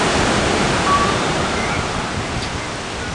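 Sea waves washing against rocks on the coast of Crete make a steady, full rushing roar with gentle swells in loudness, heard alone with no voices.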